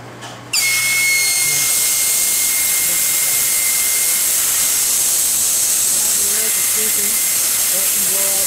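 Compressed air hisses loudly and steadily from an opened compressor relief valve, starting abruptly after a brief quiet moment and continuing without a break to the end.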